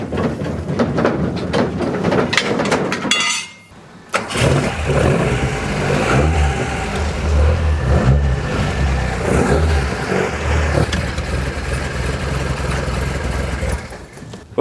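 A Ford Anglia Deluxe, a rare car in a workshop alongside racing and rally builds, runs loudly up close, its engine revving, briefly dropping off, then catching and rumbling steadily as it is driven out.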